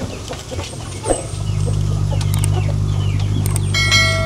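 Two backyard chickens cluck in short, scattered calls close by, while a steady mechanical hum sets in partway through and a faint high ringing tone rises near the end.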